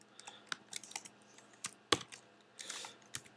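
Scattered keystrokes clatter on a computer keyboard as code is typed, with irregular clicks and a sharper clack near the middle, fairly close and quiet with no voices.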